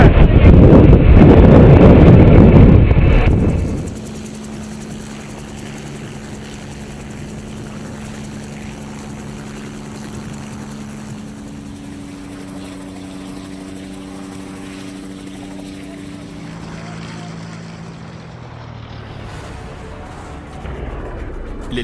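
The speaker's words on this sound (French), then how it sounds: "L'hélicoptère s'écrase dans la montagne alors qu'il est en train de décoller." A helicopter roars loudly at first while taking off in mountains, then the noise drops away into a quieter, wind-swept hum with faint shifting engine tones in the background.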